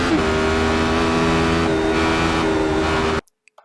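A Radical SR8 race car on a lap of Mosport (Canadian Tire Motorsport Park) drones at high revs, a loud steady in-car engine howl with harmonic whine that cuts off abruptly near the end.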